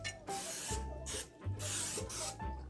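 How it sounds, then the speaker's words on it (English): Butter spray hisses from a can onto a raw chicken in several short, close bursts with brief pauses between them. "I have my butter spray here"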